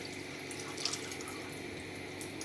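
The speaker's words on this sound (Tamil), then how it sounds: "இந்த பாலை வந்து இந்த கடாயில் ஊற்றணும்" Wheat milk pours into a kadai pan on a stove for halwa, a quiet continuous liquid trickle and splash with no talking.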